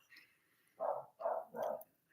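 A neighbour's dog barks three times in quick succession, short muffled woofs that sound faint and somewhat distant, with quiet background between them.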